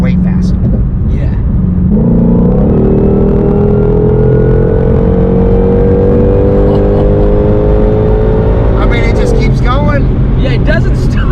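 A Shelby GT500 accelerates hard in one long, loud pull, its engine note climbing steadily for several seconds before a shift, with road rumble underneath and occasional voices inside the cabin.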